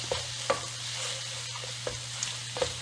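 Stuffed pepper filling seasoned with black pepper being stirred in a pan, giving a steady soft sizzle broken by a few sharp spoon clicks and scrapes.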